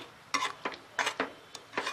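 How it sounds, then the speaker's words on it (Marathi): A spoon clanks and scrapes against a pot while chicken is stirred and sautéed in a Maharashtrian-style gravy: about half a dozen distinct knocks and scrapes in an uneven rhythm, close and fairly clear, with no voices. "हे चिकन ह्या ग्रेव्हीमध्ये चांगलं परतून घेते."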